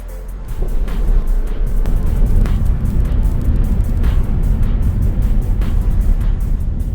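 Inside the cabin of a Singapore Airlines airliner in business class during takeoff and climb, a loud, steady low engine roar and rumble holds constant throughout, with no voices.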